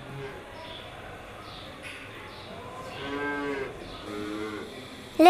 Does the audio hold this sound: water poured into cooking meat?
no